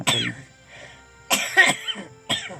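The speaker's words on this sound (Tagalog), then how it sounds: "Tigas yung ubo mo?" Several harsh coughs in short bursts, close by, with brief pauses between them.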